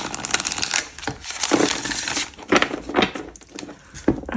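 Tarot cards being shuffled by hand in a quiet room, giving a continuous papery riffling and crisp rustle with several louder bursts, close up and without speech.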